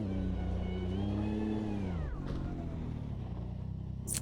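A GTR race car engine in the AutoMobilista 2 sim racing game revs high and steady, then its pitch sweeps down sharply around mid-clip before droning on loud and continuous.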